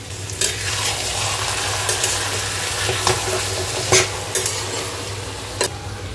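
Cauliflower and prawn curry sizzles loudly in a pan while a spoon stirs it, scraping and knocking against the metal in repeated sharp strokes over a constant frying hiss.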